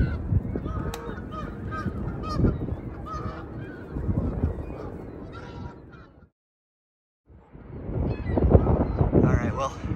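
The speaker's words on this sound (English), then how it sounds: "Those geese are gonna attack me if I go out here, aren't they?" Geese honk loudly and repeatedly near an abandoned cement factory, with wind buffeting the microphone; the calls drop out for about a second of silence before resuming in a noisy burst.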